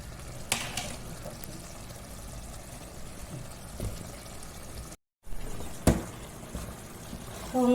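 Curry is roasted dry in a pan while it is stirred. A continuous low sizzle runs under occasional sharp scrapes and clinks of the spoon, with a brief cut in the middle and a faint voice near the end.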